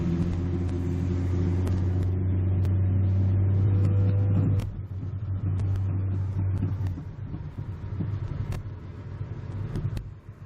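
Car engine rising in pitch as the throttle opens during a driving lesson on Konya Yolu in Balgat, Ankara, a loud steady drone that then drops back into road rumble.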